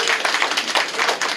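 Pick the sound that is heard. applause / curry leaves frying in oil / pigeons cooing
applause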